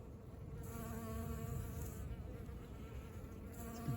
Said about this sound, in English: The bees are busy in our yard, harvesting the new flowers.